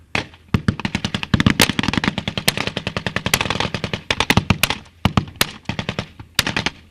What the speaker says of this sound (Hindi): सिर्फ यहाँ बंदूकें बोल रही हैं, तोप गरज रही हैं